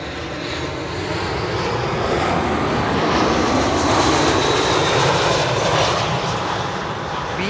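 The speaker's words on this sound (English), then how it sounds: "arriving from London Heathrow, an A319" An Airbus A319 airliner arriving at Schiphol, inbound from London Heathrow, gives a steady, loud broadband jet roar that swells slightly mid-pass and holds throughout, with no voices.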